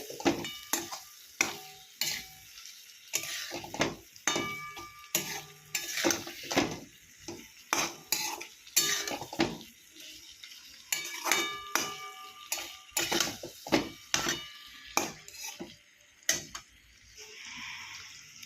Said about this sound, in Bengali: মাছগুলোর সঙ্গে একটু মশলাটা কষিয়ে নেবো